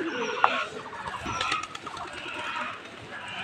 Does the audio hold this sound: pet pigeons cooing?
yes